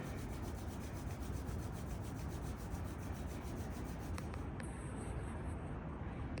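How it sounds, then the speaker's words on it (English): Palms rub together steadily during a gentle yoga session, a close, continuous dry rasping swish that holds at an even level throughout. "we can bring the hands to the heart, rub the palms together"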